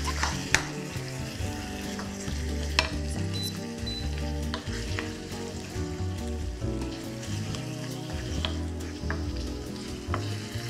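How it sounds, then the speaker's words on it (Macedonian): Marinated chicken frying in hot oil for a saffron rice and curry dish, a loud, steady sizzle with crackling pops running continuously and close, with no talk over it. "И го пропржуваме во врелото масло."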